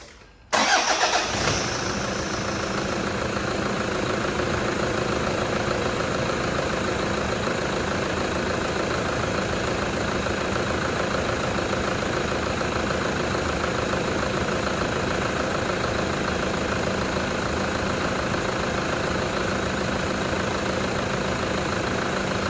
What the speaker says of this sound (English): So we'll start it up,